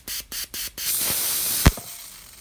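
A car fuel injector spraying during cleaning: four short hissing bursts in quick succession, then a longer steady spray hiss with one sharp click and a fading tail.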